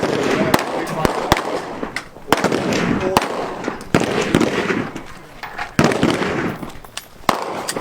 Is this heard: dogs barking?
no